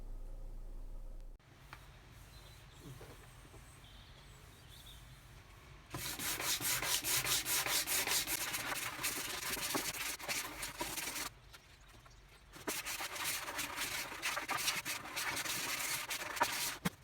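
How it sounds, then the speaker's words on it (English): Wet-and-dry sandpaper rubs across a varnished wooden table to smooth surface imperfections, a near, steady rasping scrub in two long passes separated by a short pause, following a quiet stretch, with no talking. "a final wet and dry just to take off any surface imperfections"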